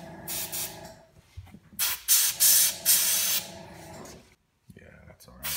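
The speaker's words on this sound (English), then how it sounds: "I don't really know how to airbrush, but we'll figure it out. Nope, that's too much paint." An airbrush spraying paint onto a prop Hyperion SMG gives loud, close bursts of airy hiss in several pulses of a second or so each, starting and stopping, with a short silent gap near the end.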